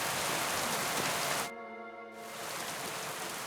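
Steady hiss of rainfall in Kingdom Come: Deliverance II, broadband and constant, briefly dropping out in the middle before resuming at the same level.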